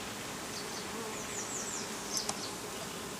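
Honeybees at an open hive during an inspection, a dense continuous buzz of many insects close by, with individual bees droning past now and then.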